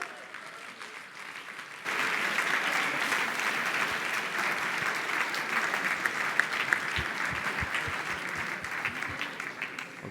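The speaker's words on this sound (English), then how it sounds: "Round of applause." Audience applause at a startup demo day event for the crowd vote winner, a sustained dense clapping that starts suddenly and carries on steadily, moderately distant in a large hall, with a few scattered louder claps.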